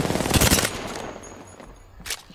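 Bursts of rapid gunfire sound in a UFC 3 livestream shooter match, firing from the other side: a loud volley of shots up front, then quieter scattered pops and one sharp late burst.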